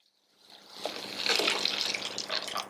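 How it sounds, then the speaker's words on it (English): Water squeezed out of a toned hair extension, a close trickling and dribbling stream that rises from silence and runs steadily, splashing softly below. "Squeeze out the water."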